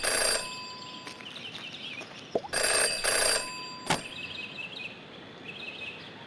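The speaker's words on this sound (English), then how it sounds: "In her short time as a detective, Jenny had learned never to ignore a ringing phone." A telephone rings in the video game Jenny LeClue, bursts of bright bell trilling separated by short gaps, with a soft chirping tone and a brief click between rings, fairly close and without speech.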